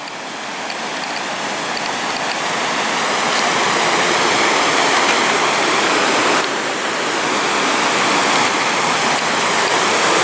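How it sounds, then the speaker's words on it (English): A flooded river in Ireland rushes as a continuous loud roar of broad turbulent water, with no break or voices. "The flood on the main Mulcair, flooding the Newport River"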